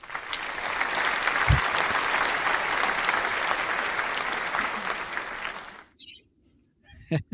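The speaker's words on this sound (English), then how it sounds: "I can play a crowd applause for it" A crowd applause sound effect plays as a loud, dense roar of clapping for several seconds, then cuts off abruptly, followed by a brief pause and a couple of short faint noises.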